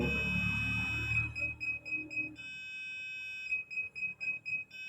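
A flood water level alarm buzzer sounds in short, rhythmic high-pitched beeps, first over a low rumble and then in clear, evenly spaced pulses close to the device.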